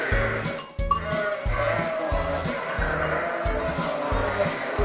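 Sheep in a farm barn at Xert while straw is being forked out for feeding, with repeated low rumbling thumps in a steady rhythm and scattered brighter calls layered over constant close, busy background noise.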